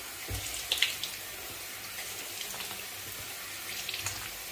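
Water runs steadily from a tap as a foamy item is rinsed and washed, a close, continuous splashing hiss with small irregular bursts of sloshing and no talk.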